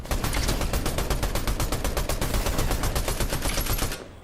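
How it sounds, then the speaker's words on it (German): Rapid automatic gunfire in Fortnite, a loud, steady burst of evenly spaced shots lasting about four seconds before cutting off abruptly. "Oh, ich werde angeschossen vom anderen."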